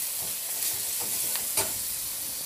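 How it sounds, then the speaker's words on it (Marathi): Ginger garlic paste sautéing with onions in a pan for Indian egg curry, a soft steady sizzle with a few light stirring scrapes, close and fairly quiet, no voices. "ती टाकणार आहे आणि ही सुद्धा व्यवस्थित आपल्याला 1 मिनिट परतून घ्यायची कांद्यासोबत"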